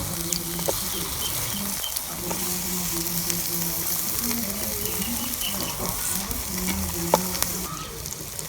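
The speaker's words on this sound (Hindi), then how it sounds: "कैप्सिकम में हमने अंडा शामिल कर दिया है। इसको हम हल्की आंच पर तकरीबन 2 से 3 मिनट पकाएंगे" Egg with capsicum cooking on low heat in a pan fills the air with a soft, even sizzle and light crackle, close by and steady throughout with a few small pops, and nobody speaks.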